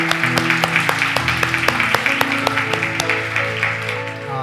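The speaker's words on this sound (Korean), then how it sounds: "우리 하나님께 감사와 영광의 박수를 드리겠습니다." Congregation clapping during a Korean church service, a steady wash of applause with regular rhythmic claps running throughout, while sustained organ or keyboard tones sound underneath.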